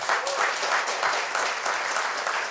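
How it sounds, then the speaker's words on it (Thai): An audience at a business talk claps for their chairman, a loud, steady burst of applause from many hands that carries evenly from start to end. "ปรบมือให้ท่านประธานของเรานะ"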